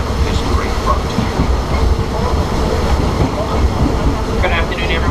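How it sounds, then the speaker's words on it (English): The steam-powered Disneyland Railroad train runs steadily, with a continuous loud rumble and rattle of the rolling cars, and faint squeals of wheels and track near the end. "We are steaming our way into our next stop, Mickey's Toontown Depot"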